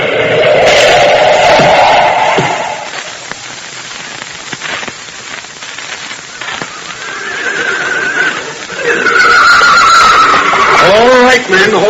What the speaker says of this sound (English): Moccasins' horse Rainbow stopped at this spot.